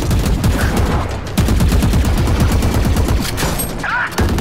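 Rapid bursts of automatic gunfire in the tactical shooter Valorant, loud and dense, with clustered shots crackling in quick succession almost without pause.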